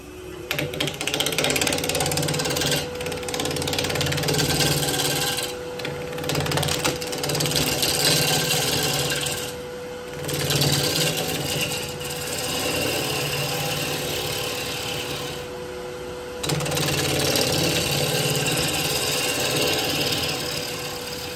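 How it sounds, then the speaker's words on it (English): A wood lathe spins a box elder bowl blank while a 5/8 gouge cuts it, giving a loud, steady rattling and grinding whir that runs the whole time with brief dips, and nobody speaks. "we're going to try to start off here with the 5/8 gouge."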